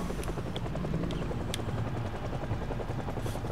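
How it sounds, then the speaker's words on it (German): A helicopter circles overhead in the video game Project Zomboid, its rotor chopping in a rapid steady pulse that stays loud and constant with no voices over it. "Wir haben ein Helikopter-Event."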